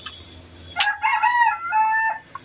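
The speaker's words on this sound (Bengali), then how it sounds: "তবে সমস্যা হলো এই মুরগিগুলো খুব ডাকাডাকি করে।" Layer hens on a poultry farm call out in a loud, drawn-out squawk that rises and wavers, one close bird calling over a quiet background with a short cluck at the end.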